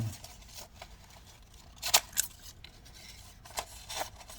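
A few sharp metallic snips from unsharpened vintage hand grass shears, spaced irregularly over faint background rustle, close and fairly quiet.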